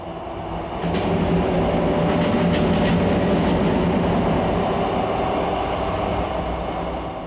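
A train travelling at speed fills the space with a close, continuous rumble and rolling wheel noise, with a few faint metallic clicks early on and no voices.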